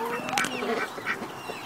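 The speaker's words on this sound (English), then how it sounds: "There's 3 white ducks at the back there. They're white Campbells" White Campbell ducks quack in a small zoo enclosure with geese and turkeys nearby, a few short nasal quacks close by in quick succession with a faint voice in the background.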